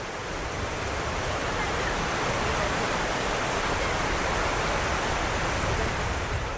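Steady broadband rush of the river where the blue-green Alakananda and the Bhagirathi meet at Devprayag, a continuous even roar of flowing water with no pauses.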